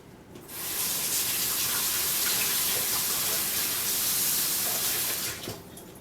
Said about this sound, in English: We'll rinse this off real quick.